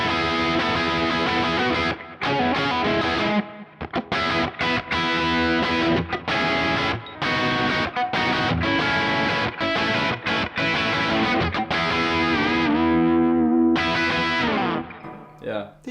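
Distorted electric guitar played through a Kemper rock amp profile, loud and continuous with driven chords and sustained notes, brief pauses near 2, 3.5 and 14 seconds, then a fading ring at the end.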